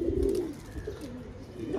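Pigeon cooing from a fancier's loft of fancy pigeons, a close, low repeated coo rolling on and off over about two seconds with faint background bird noise and no talking.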